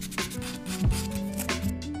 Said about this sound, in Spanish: utilizaremos lijas al agua.